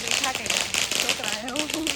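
Rapid crackling pops of small firecrackers bursting in quick irregular bursts during Diwali celebrations in a city, with people talking over them.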